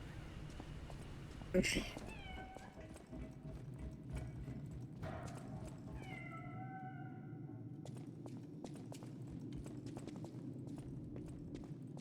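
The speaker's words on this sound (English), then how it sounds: "Now is that the same orange cat?" An orange cat meows a few times in a cold, echoing lab building, with harmonic cries near the start and middle over steady ambient hum; people talk quietly around it.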